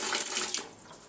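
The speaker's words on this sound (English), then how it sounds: "It has running water." Running water from a tap in a small single room, a steady hissing splash that is moderately loud, then tapers off quickly, with no talking.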